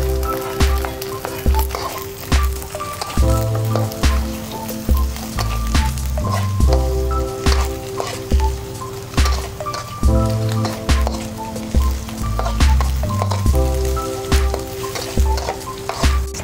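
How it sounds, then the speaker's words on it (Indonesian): Shallots and garlic sizzle in hot oil with frying anchovies for an oncom dish, a steady close crackle under a repeating background music track. "Setelah ikan terinya mulai menguning, lalu kita masukkan bawang merah dan bawang putih."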